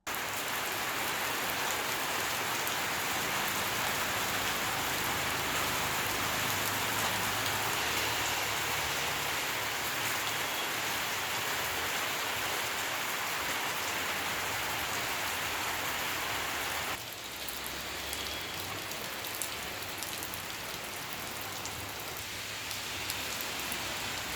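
Steady unseasonal rain pours down evenly on surfaces in Aravalli district, Gujarat, a dense continuous hiss with a slight shift partway through, and no talking.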